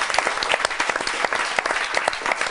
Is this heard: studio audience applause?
yes